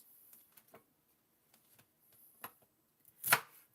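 Knife chopping produce into small chunks for a slow juicer, a handful of sparse, light cutting-board taps, close and quiet, ending with one sharper, louder chop.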